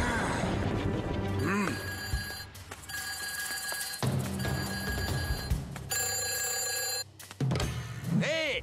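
A cartoon telephone rings with bright, repeated electronic trills in bursts, interleaved with speech, boings and other playful effects in an animated scene.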